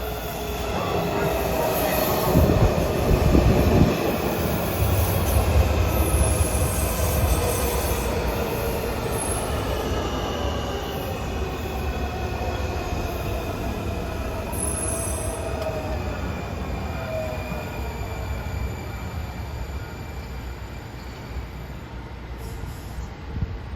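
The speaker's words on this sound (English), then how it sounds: "Here comes a set of Bredas headed for Shady Grove on the far end of town" A Washington Metro train of Breda cars heading for Shady Grove rolls past. Its wheels give long, loud, sustained squeals that rise and fall over a heavy rumble, then gradually fade.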